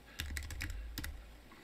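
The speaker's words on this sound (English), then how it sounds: "So like when I type in here" Keys clatter on a computer keyboard during 3D texturing work in Blender and Substance Painter: a quick burst of several close taps, then two more after a short gap, fading to quiet.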